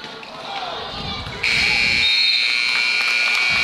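An end-of-quarter buzzer at a girls' high school basketball game at the Hangar in Franklin-Monroe blares loud and steady, cutting in after a second of crowd and court noise and holding to the end.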